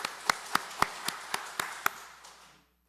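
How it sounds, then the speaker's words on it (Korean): A church congregation at a Sunday worship service claps in unison, seven sharp, evenly spaced claps in a steady rhythm, followed by a brief fading room reverberation and then silence. "하나님께 영광의 박수 올려드립니다."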